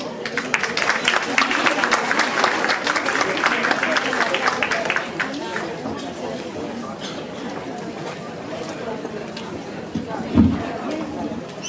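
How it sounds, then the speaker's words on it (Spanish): Applause and crowd chatter at an educational innovators' gathering, many hands clapping loudly at first, then fading into murmuring voices and talk, with a brief thump near the end. "Recibámoslos con un aplauso."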